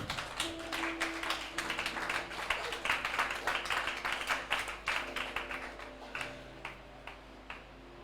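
A church congregation claps in praise, a steady rhythmic handclapping that continues for several seconds at moderate distance, with a sustained musical tone underneath, then thins out into scattered claps.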